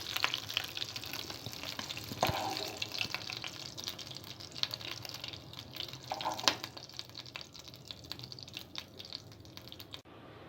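Green chillies fry in hot oil for a mint and onion chutney, giving a steady, close sizzle with occasional spatters and stirring clatter, with no talking.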